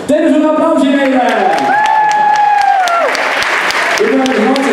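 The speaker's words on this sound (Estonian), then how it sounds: "Teeme sulle aplausi meile!" A crowd applauds a dance company at a spring festival in Haapsalu, with loud, dense, continuous clapping throughout while a voice speaks or calls out over it.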